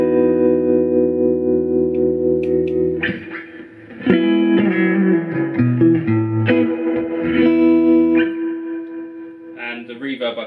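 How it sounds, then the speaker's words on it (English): An electric guitar with humbuckers plays through a Fender Princeton Reverb amp with its tremolo set to the slowest speed and lively reverb, sustained chords pulsing slowly and ringing out loud and close. "Tremolo thing set to its lowest speed,"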